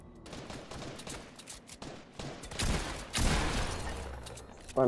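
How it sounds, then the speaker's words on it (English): Rapid bursts from an automatic sniper rifle in Fortnite Chapter 2 Season 8, shots cracking in uneven clusters that grow louder, with a loud final burst at the end. "I'm gonna hate the automatic sniper rifle this season"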